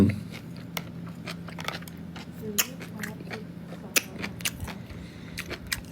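Someone eating sukiyaki (Thai-style hot pot), with close, irregular biting and chewing clicks and crunches over a steady low hum, and no talk.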